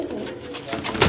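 A Rampuri pigeon gives a soft, low coo close by, a short throaty call that swells near the end.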